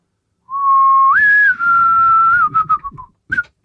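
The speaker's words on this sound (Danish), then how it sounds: "Prøv at fløjte svaret." A person whistles a short tune in reply, a clear, loud sustained note that rises, holds, then breaks into quick chirping notes, ending with a brief final whistle.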